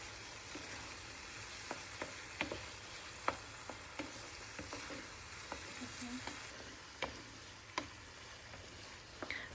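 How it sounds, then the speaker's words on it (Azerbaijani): Tomato paste fries in a pan with a soft, low sizzle and scattered crisp ticks and pops, quiet and close, with no talking. "Tomatla da biraz qovuruldu"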